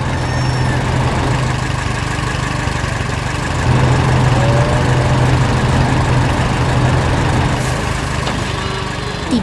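A farm tractor engine drones steadily in an animated farming scene, loud and continuous, its low hum briefly rising in pitch midway, with no voices.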